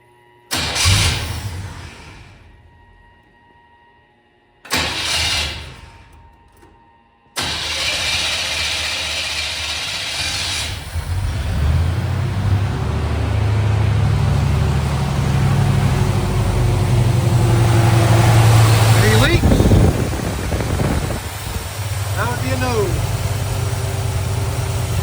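A 1970 GMC C2500 truck engine with a big vacuum leak cranks in two short bursts, then catches and roars to life, settling into a rough, loud idle with revving.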